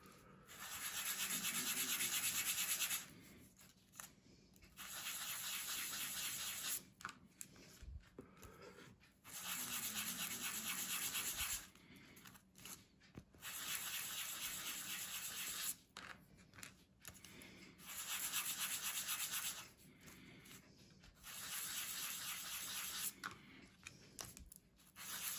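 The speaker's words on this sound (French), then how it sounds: "Alors ça, après c'est ponçage." Sandpaper rubs over a hand-finished part with a small defect, in repeated bursts of steady scratchy strokes a few seconds each, separated by brief pauses. The sound is close and fairly quiet, with no voices.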